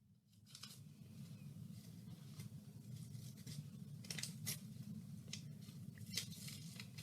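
Scissors cut a large shape out of paper, giving a series of faint, crisp snips and rustles at an uneven pace over a low, steady background hum.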